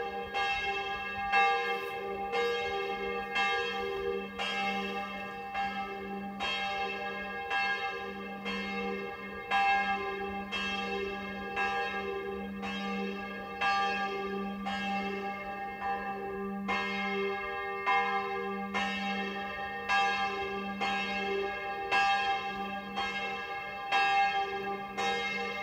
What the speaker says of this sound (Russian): Обожаю звон колоколов.